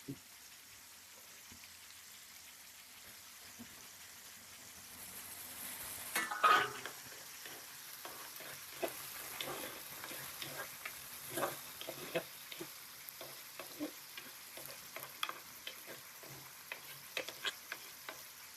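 Shallots, tomatoes and green chillies fry and sizzle in a pan for a Palakkad-style egg curry, a steady close crackle with intermittent stirring clatter and brief louder bursts, no talking.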